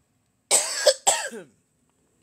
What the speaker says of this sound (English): Forgive me, I got a dry cough today.